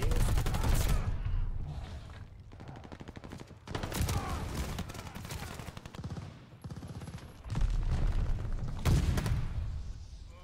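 Bursts of rapid automatic gunfire and booming blasts in a Call of Duty Warzone match, coming in loud clusters separated by quieter gaps, with a grenade blast among them.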